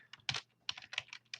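Quick bursts of keystrokes on a computer keyboard while a file is renamed in a GIS program, in short irregular clusters with brief pauses, close and fairly quiet, with no talk.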